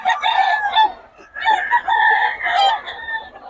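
Loud, close rooster crowing from roosters for sale in Bocaue, with several overlapping calls in quick succession and a brief pause, as if more than one bird is crowing.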